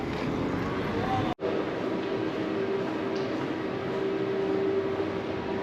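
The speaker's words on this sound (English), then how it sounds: "Okay, so that's our train." Train waiting at a French railway station, service bound for Amiens, giving off a steady low hum and faint tonal whine with distant station ambience, briefly cut by a short dropout.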